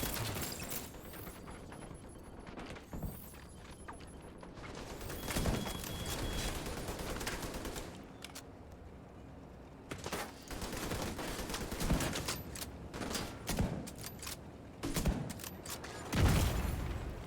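Gunfire in the video game The Division 2, with bursts of rapid shots and single sniper-like cracks over a steady ambient bed, moderately loud, alongside mechanical game sounds.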